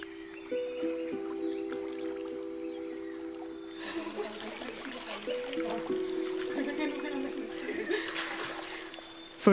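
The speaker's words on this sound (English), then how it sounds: "Vanuatu women's water music." Vanuatu women of the Banks Islands playing water music, slapping and splashing river water with their hands. Quiet tonal sounds come first, then a burst of rhythmic splashes and plops runs on to the end.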